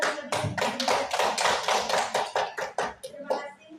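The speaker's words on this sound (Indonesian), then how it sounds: "kita kasih tepuk tangan dulu" An audience at a coding training session claps in a brief round of applause, with voices mixed in underneath.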